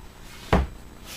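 A single quick clack as a small hinged door on a toy farm building swings shut, one short wooden knock in a quiet room.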